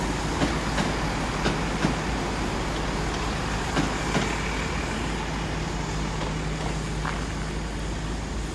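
A train rolls into Exeter St Davids station on a sunny evening, a steady, loud rumble of wheels and engine with faint rhythmic clicks of the rails running throughout, no voices.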